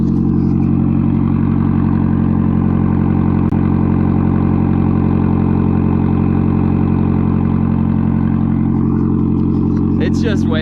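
A straight-piped Nissan 240SX idles with a deep, loud, steady burble, its timing freshly set, running continuously up close with a brief rattle near the end.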